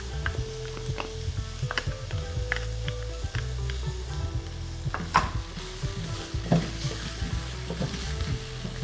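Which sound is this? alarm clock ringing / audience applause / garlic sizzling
garlic sizzling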